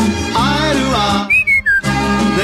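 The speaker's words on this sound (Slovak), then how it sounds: "Fuj, aký neslušný, pískajú rádiu." Several people whistle in a short, rising-and-falling sequence, close and loud, with a backing radio song playing around them before and after the whistles.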